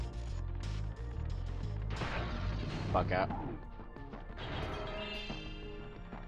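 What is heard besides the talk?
smashing little windmills in video game Spyro the Dragon 2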